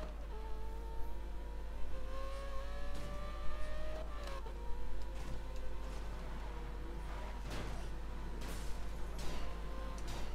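A race car roars through Need for Speed Most Wanted, its engine revving and shifting in rising and falling pitch, with sharp bursts of impact and road noise cutting through, loud and continuous without speech.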